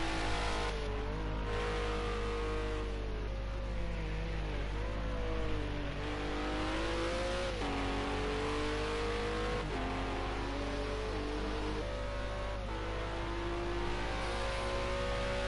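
Race car lapping Snetterton circuit in qualifying, engine revving high with repeated gear-change dips and climbs through the corners, steady and loud throughout with no talk.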